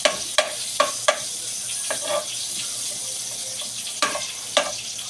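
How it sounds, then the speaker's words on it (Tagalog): Milkfish pieces with ginger frying briefly in a pan: a steady broadband sizzle with several sharp clicks and taps of a utensil spread through it, close and moderately loud, no voices. "Iprito muna natin saglit ang bangus, mga ka-friendship."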